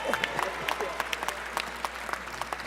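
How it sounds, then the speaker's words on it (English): Audience applause at a Congressional Black Caucus braintrust event, a steady wash of many hands clapping with scattered sharper claps throughout, moderately distant and continuous. "Please give them a big round of applause."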